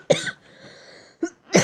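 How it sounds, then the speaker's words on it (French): Close, loud coughing in two bursts, a harsh double cough followed by a short pause with faint background hiss, then a shorter cough and another strong one at the end. "Excusez-moi si je tousse et que ça fait des bruits un petit peu dégueulasses dans la vidéo."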